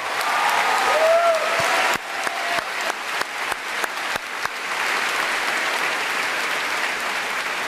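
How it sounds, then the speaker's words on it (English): An audience at a high school graduation ceremony applauds, starting as a full burst of clapping and then thinning into scattered, sharper individual claps before settling into a steady softer patter. "Please stand and applaud."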